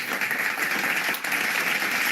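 A clapping sound effect of dense, steady applause from a crowd, a continuous wash of many hands at moderate level with no voices.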